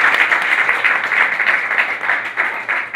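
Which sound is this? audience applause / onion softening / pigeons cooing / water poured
audience applause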